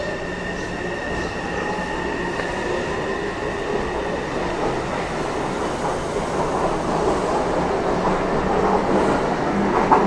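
A Taipei Metro high-capacity steel-wheel, steel-rail train pulls out of Shilin station on the Tamsui-Xinyi line, bound for Tamsui. It gives a continuous close rumble with faint wheel squeal that builds steadily louder as it goes.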